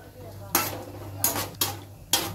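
Cashews tipped into hot oil in a pan on the stove, giving four sharp clattering bursts as the nuts land, with a low steady hum underneath.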